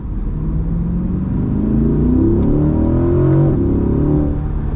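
A C8 Corvette Stingray pulls hard under acceleration, its engine note climbing steadily in a loud, close, continuous rise with a dense rumbling undertone and no talk.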